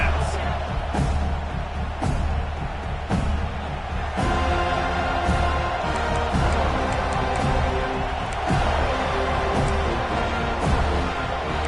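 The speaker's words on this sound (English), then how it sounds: "This crowd bringing the energy and noise early." Stadium crowd at a Tennessee Volunteers college football game against Florida State, a broad sustained roar of cheering and noise filling the whole stretch, steady and loud with occasional sharp peaks, no clear voice on top.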